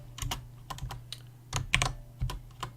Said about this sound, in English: if I press page up, it'll scroll the page up